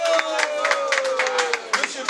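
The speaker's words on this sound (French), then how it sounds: "on peut les applaudir très fort" Guests at an official civil wedding ceremony in France clap in short, lively bursts of applause, close by, while a voice carries on speaking over the clapping.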